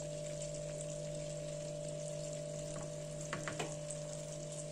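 About 200 grams of butter, just melted in a pan, gives off a faint steady sizzle beneath a constant electric hum, with a couple of light knocks near the end.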